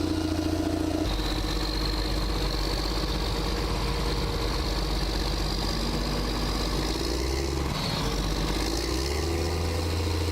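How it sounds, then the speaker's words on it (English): John Deere tractor stuck in plowed mud, its engine droning loud and steady with the tires spinning, the pitch shifting briefly near the end before it settles back to a continuous idle-like rumble. "Despite the roar of its engine, the tires spin helplessly, plowing through the plowed soil without being able to move forward."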